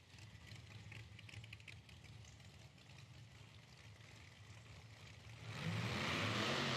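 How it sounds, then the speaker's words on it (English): Nitro drag race cars starting up at an IHRA Outlaw Nitro Series event: a steady, distant engine rumble under crowd ambience, then a sudden loud roar as an engine fires and revs hard near the end. "I hear cars starting up."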